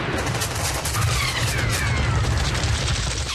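Dense, rapid gunfire crackles nonstop as a dramatized wartime assault on enemy positions, a loud, continuous fusillade with heavy low booms underneath and no voices.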